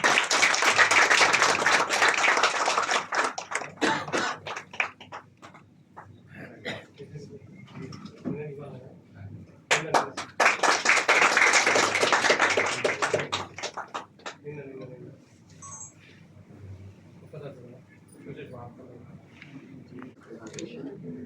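An audience at a World Kidney Day celebration in a hospital hall applauds in two loud bursts of clapping, each fading into scattered claps, with talk running between and after them.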